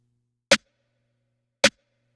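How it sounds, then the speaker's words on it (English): Two sharp snare drum hits from a mix, spaced about a second apart, each short and crisp with only a faint reverb tail fading behind it; no voices. "So originally I had some reverb on this snare."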